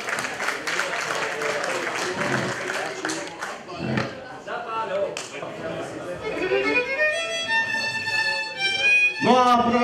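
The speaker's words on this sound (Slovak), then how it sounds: "Potlesk pre nevestu, ešte jeden pekný." Wedding guests clap for the bride at a Slovak wedding in Detva, the applause running under a talking host and lively background music.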